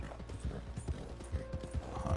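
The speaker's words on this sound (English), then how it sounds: "That's a real horse running right there." Galloping horse hooves in Red Dead Redemption 2, a rapid uneven clip-clop of thuds close by, with faint mechanical clicks and a low hum underneath.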